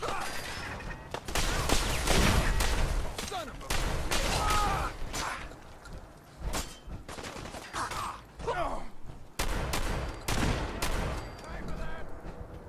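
Heavy gunfire in the video game Fallout 4: repeated loud volleys and rapid bursts of shots, broken by short gaps, with occasional voices between the blasts.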